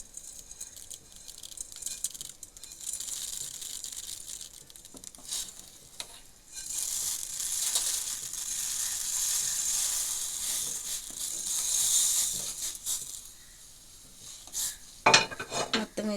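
Roasted vermicelli (semiya) tipped gradually into a pan and stirred steadily, a continuous soft sizzle and scraping hiss with occasional clinks of the spoon against the pan, ending in a few sharper knocks.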